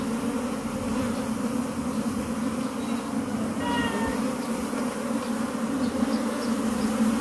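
A bee colony being moved out of a cave, a dense continuous buzzing drone of many bees holding steady at moderate loudness, with a few faint higher tones briefly rising over it.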